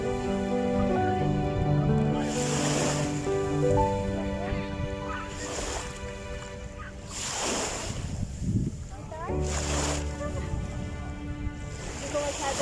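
Sea waves rolling onto the beach at Sentosa on a windy afternoon, surf washing in repeatedly beneath wind noise on the microphone, with a child and an adult talking and a steady tonal hum running through.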